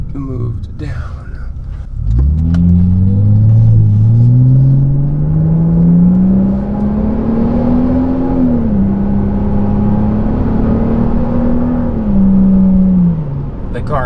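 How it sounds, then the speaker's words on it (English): A Volvo S60 T6 R Design car engine revs up and holds a steady, loud drone for several seconds, pitch rising gradually, with a deep rumble underneath. "The car sounds really good."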